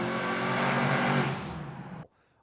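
A 1972 Chevrolet C10 restomod pickup with an 800-horsepower engine and big camshaft roars loudly up close, holding a steady rumble before the note drops and cuts off abruptly.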